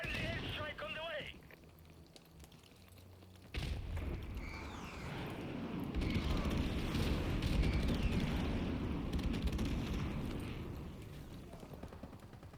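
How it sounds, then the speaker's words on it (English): Friendly airstrike explosions in Call of Duty Modern Warfare Remastered multiplayer, building into a long, loud rumbling roar of blasts that swells and slowly fades, with a brief voice line at the start. "Friendly airstrike on the way."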